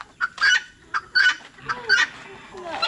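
Several short clucking turkey calls in a row, fairly close and distinct, with brief pauses between them and no talking.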